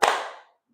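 A single sharp hand clap struck in a classroom counting game, close and crisp, standing alone with a quick fading tail.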